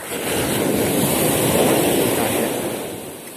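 Ocean waves surging onto the shore at a fishing spot, a loud, continuous roar of rushing surf swelling and easing over a few seconds, with wind buffeting the microphone.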